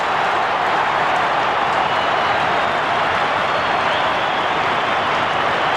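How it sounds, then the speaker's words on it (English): A huge football crowd at an AFL match between Collingwood and Richmond roars after a Collingwood goal, a loud, sustained wall of cheering and applause that holds steady throughout. "The crowd will go berserk."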